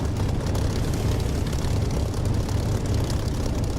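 Aircraft engine in the DCS flight simulator throttling up for takeoff, a steady loud low roar with propeller drone that holds constant throughout, no voices.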